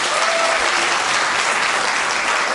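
Sustained applause from an audience at a cabaret evening, dense and even clapping heard up close with no pauses.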